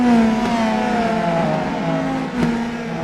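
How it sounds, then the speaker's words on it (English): Race car engines rev and accelerate hard on an oval in the iRacing sim, a loud rising engine drone with layered harmonics and a brief gear-change dip near the end. "He jumps on the loud pedal, and away we go one more time."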